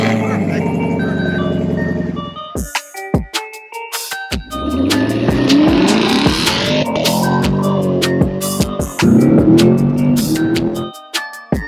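A straight-piped Camaro SS V8 bursts to life and revs hard, loud and close, with sharp throttle blips and a roaring exhaust, while people talk and react over the engine noise.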